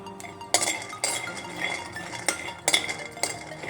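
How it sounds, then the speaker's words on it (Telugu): Homemade millet chocos frying in a pan, heard as repeated close metallic clinks and scrapes of a utensil stirring against the pan, with a faint sizzle underneath and no talking. "ఇలా ఫ్రై చేసుకుందాము."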